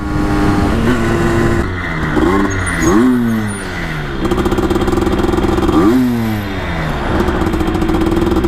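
A motorcycle engine, being run in after a break-in, idles loudly up close, then revs up and down several times in sharp rising and falling bursts.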